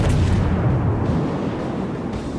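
Heavy naval gunfire in World of Warships, a continuous loud rumbling boom of shells firing and impacts filling the whole short stretch, with no talk over it.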